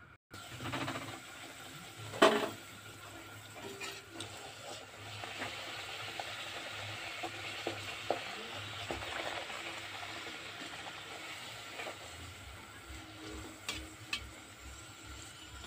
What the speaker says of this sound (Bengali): আমার লুচিগুলো ভাজা হচ্ছে, ফুলকো ফুলকো লুচি